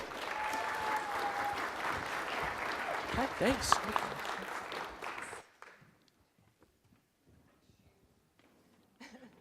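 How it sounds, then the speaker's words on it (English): An audience at the Glimpse Conference SF 2013 fireside chat applauds loudly and steadily as speakers come onto the stage, then the clapping stops abruptly, leaving near silence; a brief spoken remark follows and a little more sound returns at the end. "Let's give them a round of applause."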